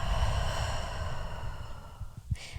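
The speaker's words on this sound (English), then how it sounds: "and a deep breathe out through the mouth" A long, deep exhale pushed out through the mouth during a guided breathing exercise, a close breathy sigh that fades over two seconds, followed by a small soft sound.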